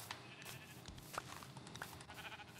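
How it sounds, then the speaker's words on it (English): Sheep bleating in the Minecraft video game, a few short game-sound calls heard over a steady background of in-game ambience, fairly faint overall. "Sheep."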